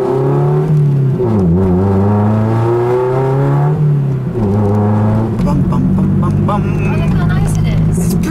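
A car driven in sport mode with reduced traction control, on the road in Richmond, gives a loud, close engine drone that climbs and falls through several rev swells, with a rougher, busier stretch toward the end.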